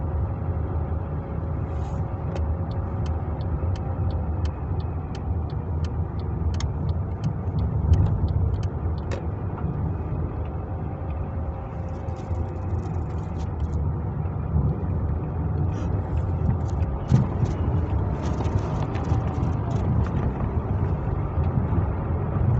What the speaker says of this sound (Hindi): तब मैंने अपनी कार का क्लच प्रेस किया है और साथ में गियर शिफ्ट किया है।